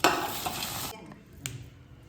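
Green chutney being mixed with rock salt, starting as a dense, close scraping and stirring, then dropping away to quiet with a single short clink.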